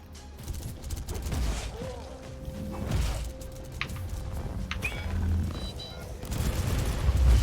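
Automated gun turrets in the Warhammer 40k Inquisitor – Martyr video game fire in dense, continuous bursts over a rumbling battle backdrop, with scattered impacts and crashes throughout.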